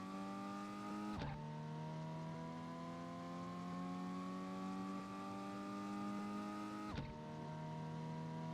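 A tiny car in a video game accelerates hard, its engine pitch climbing steadily through two abrupt gear changes that each drop the tone before it rises again, loud and close with no talk.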